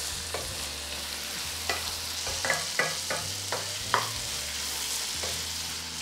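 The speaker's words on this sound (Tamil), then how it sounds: "சவ் சவ் ஒரு 2 நிமிஷம் நீங்கள் வதக்கி விடுங்க." Chow chow (chayote) sautéing in a pan: a steady close sizzle with about ten sharp spoon scrapes and clinks against the pan at an irregular pace.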